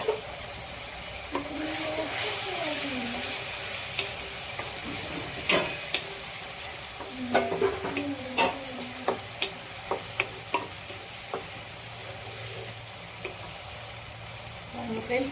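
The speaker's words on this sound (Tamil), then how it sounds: "இன்னும் கொஞ்சம் நேரம் வதங்கட்டும்" Ingredients fry in oil for fenugreek kuzhambu, giving a continuous sizzle with repeated sharp clinks and scrapes of a stirring spoon against the pan; some faint background tones.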